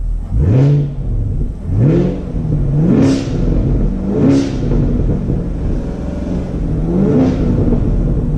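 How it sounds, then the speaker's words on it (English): A 2018 Chevrolet Camaro SS V8 revved repeatedly while stationary, about six sharp throttle blips rising from a deep, dark rumble to a sharper top-end snarl and falling back between each, loud and close with no talking. "It's really low and dark, and it gets really sharp at the top range of the revs."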